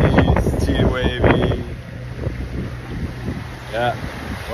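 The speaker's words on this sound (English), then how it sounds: "It's still raining, still windy, still wavy." Wind buffets the microphone against a wash of Atlantic Ocean waves aboard a sailing catamaran in rain, with brief bursts of voices at the start and near the end.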